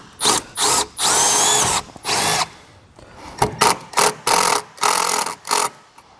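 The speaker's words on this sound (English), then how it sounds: "take a drill bit just so you can get a pilot hole in there" Power drill boring a pilot hole through metal for a self-tapping screw on a 2019 Jeep Wrangler install, heard close and loud in short repeated bursts of whirring separated by brief pauses.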